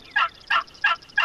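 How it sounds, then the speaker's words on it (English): Flock of wild turkeys gobbling outdoors, four quick rattling gobbles in an even rhythm over faint background noise, fairly close. "we've got a flock of turkeys right in front of us here"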